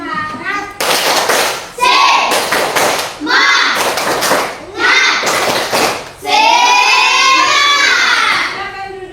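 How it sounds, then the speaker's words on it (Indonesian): A class of children performs the tepuk semangat spirit clap, loud rhythmic bursts of group clapping mixed with shouted chanting voices, ending in a long sustained cheer. "Tepuk semangat."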